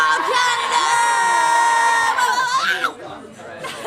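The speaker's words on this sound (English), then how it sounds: "If you could put your metal horns in the air and scream as loud as you can for me" A rock-show crowd screams, whoops and cheers loudly in a dense sustained roar, then the noise drops off abruptly near the end.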